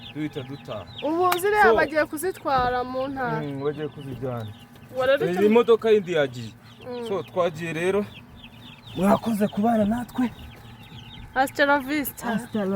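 Chickens and their chicks cluck while being loaded onto a truck for transport to the countryside, the clucking sitting low beneath nearly continuous nearby talk.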